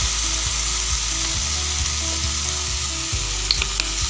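Spiced chicken with soy sauce fries in a pan with a constant loud sizzle, while a utensil scrapes and mixes in repeated strokes beneath a steady low hum.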